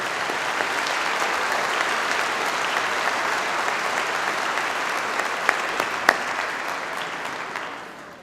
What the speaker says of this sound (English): Let's give a big round of applause to them.